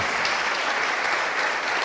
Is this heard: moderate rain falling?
no